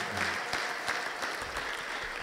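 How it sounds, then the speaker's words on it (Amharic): Applause from a church congregation during worship, a steady dense wash of clapping that runs the whole moment, with ululation likely mixed in but not clearly distinct. "እልልታ ጭብጨባ ለኢየሱስ"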